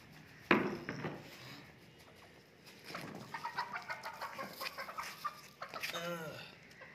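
An Aseel White Paper Heera rooster, shown as one of a pair, lets out a sharp loud call, then a run of close clucking and crowing notes that grows busier toward the end.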